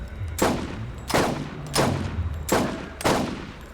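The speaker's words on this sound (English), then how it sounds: "Even from the distance, the sniper's not too bad." Five heavy sniper rifle shots from the Borderlands video game come at a steady pace about two-thirds of a second apart, each a loud sharp crack with a booming tail.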